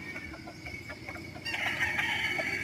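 Gamefowl roosters crow and cluck in the early dawn hours, several calls overlapping from a moderate distance, the crowing growing louder and fuller in the second half.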